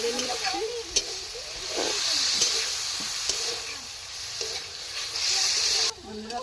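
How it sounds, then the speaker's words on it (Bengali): Chopped chicken is stirred and fried in a pan for a chicken vegetable soup, giving a moderate hissing sizzle with soft stirring scrapes. A voice talks over it, and the sound cuts off near the end. "চিকেনটাকে আমি ভালো করে একটু নেড়ে নিচ্ছি"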